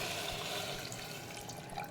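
Water pours into a pan while basmati rice veg pulao is cooked, a steady splashing stream that stays loud and continuous for about two seconds, with no talk.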